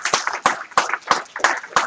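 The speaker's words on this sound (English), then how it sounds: "So let's everybody give Daniera a big round of applause." Audience applause at a live event, a short burst of claps rising and falling in about six quick waves, close and fairly loud with no talk over it.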